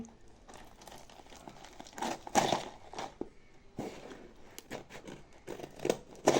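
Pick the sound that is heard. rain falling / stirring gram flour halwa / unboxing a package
unboxing a package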